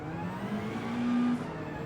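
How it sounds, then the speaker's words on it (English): Car engine revving in Gran Turismo 7 on the Austria circuit during a race: a smooth, steady mid-pitched engine tone rises briefly to a higher rev and drops back, alone without talk. "Revving it out, gorgeous"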